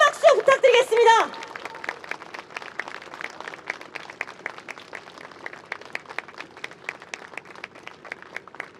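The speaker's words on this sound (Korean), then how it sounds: "큰 박수 부탁드리겠습니다" Scattered, modest clapping from a small crowd at a second memorial protest cultural event. A voice speaks briefly at the start, then sparse, uneven claps continue at moderate distance.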